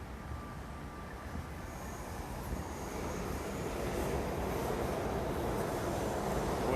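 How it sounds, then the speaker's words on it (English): Subway train rumbling through a New York City station near Astor Place in Manhattan, a steady broadband roar with a faint high squeal that slowly swells louder, with no one speaking. "Subway noises,"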